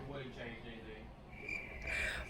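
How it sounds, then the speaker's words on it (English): Faint high chirping of crickets in the background, continuous and distant, with a brief voice at the start. "Crickets."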